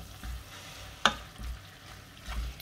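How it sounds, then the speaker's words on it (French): Vegetables for a Provençal ratatouille being stirred in a pan, with a soft sizzle under scraping strokes and one sharper utensil knock near the middle. "Alors, on va bien mélanger."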